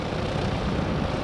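An H55 electric airplane takes off with a steady, broadband whooshing hum that holds even and fairly loud throughout the brief moment.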